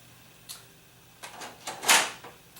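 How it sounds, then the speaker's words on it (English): The front door of a Nishijin pachinko machine swings shut, giving a few soft clacks and a firmer latching knock near the end, close by and moderately loud. "And the door closed real easy there."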